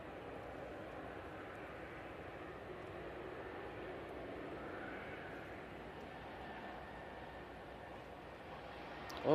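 Bombardier Global 6000 business jet on approach to the runway, its engines a steady, distant broadband roar that holds evenly throughout, swelling slightly at the very end.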